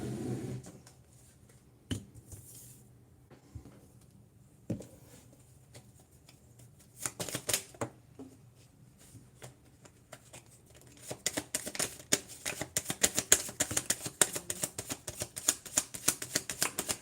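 Playing cards being shuffled, faint scattered riffles and snaps at first, then a dense run of quick crisp riffling near the end, close and quiet.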